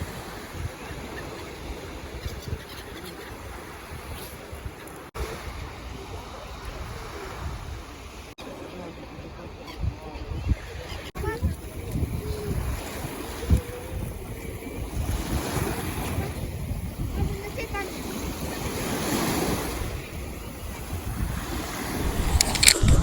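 Steady roar of Black Sea surf washing onto a beach at Chornomorsk, with gusts of wind buffeting the microphone and waves swelling louder toward the end.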